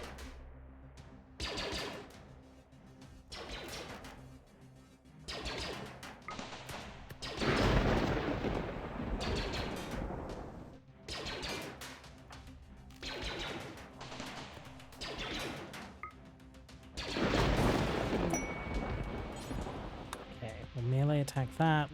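Bursts of crackling, crashing energy from force storm and force lightning attacks in the RimWorld game Star Wars: Deserters mod, surging repeatedly in loud waves with a person talking over parts of it.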